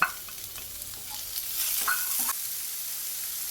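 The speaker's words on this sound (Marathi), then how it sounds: "कांदा ट्रान्सपरंट होईपर्यंत परतून घेतला की त्यामध्ये अर्धी वाटी टोमॅटो" Onion and tomato are sautéed in a pan, giving a steady hiss of frying with a couple of brief spatula scrapes, close and alone, without speech.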